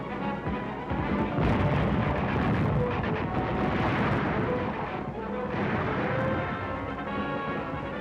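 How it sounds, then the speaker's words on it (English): Dense, continuous battle din of machine gun fire and mortar blasts on a Pacific island beach landing in 1945, heavy rumbling bursts rolling together with a few faint voices mixed in. "we were pinned down by machine gun fire and mortars"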